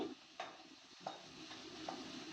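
Chopped onions frying in oil with cumin and curry leaves are stirred around a pan, a soft continuous sizzle broken by a few light scraping strokes of the spoon, faint and without talk.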